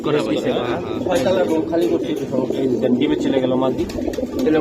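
Racing pigeons cooing in soft, throaty bursts close by at a pigeon sale, mixed with people talking throughout.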